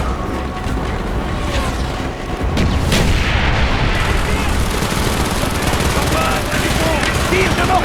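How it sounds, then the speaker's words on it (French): Mortar and gunfire barrage in the Call of Duty: Black Ops mission Project Nova, a dense continuous battle din of rapid shots and booms that grows louder after the first few seconds and keeps going. "Tire de mortier."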